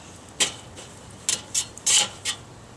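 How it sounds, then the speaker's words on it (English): An oil-soaked cloth is rubbed across a barbecue grill grate, giving about five short, scratchy wiping strokes in an irregular rhythm, fairly quiet and close, with no talking. "pour a little bit of oil on it, And then try oiling up the grate"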